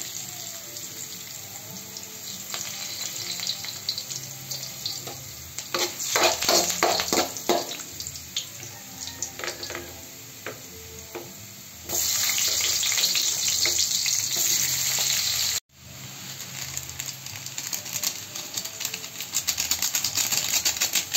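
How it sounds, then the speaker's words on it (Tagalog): Leaves sautéing in a hot pan, a steady sizzle with stirring and running-water noise, loud and close, rising and falling across the stretch with a brief cut near the middle. "lagay na natin yung ating dahon sa ating pagisa"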